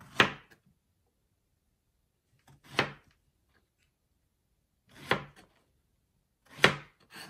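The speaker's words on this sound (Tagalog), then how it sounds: "hiwain natin yung ating saging ng paganta siguro" A knife slicing bananas on a cutting board for binignit: four separate crisp chops spaced a couple of seconds apart, close and clear, with silence in between and no talking.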